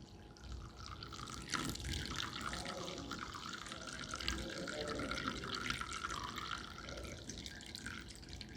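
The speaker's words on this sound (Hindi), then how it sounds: "बहुत ही अच्छी तरह मसलने के बाद हमें इसको एक कॉटन क्लॉथ से छान लेना है।" Crushed Giloy liquid is strained through a cotton cloth, making a steady, close trickle and drip of liquid that runs unbroken throughout.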